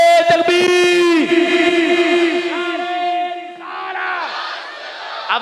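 At a religious gathering, a large crowd roars slogan responses in unison, loud and sustained with echoing, layered voices, followed by a further round of shouted chanting.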